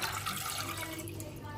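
A cup of water is poured into a pan to start a sugar syrup, a steady close splashing rush that runs throughout without talk.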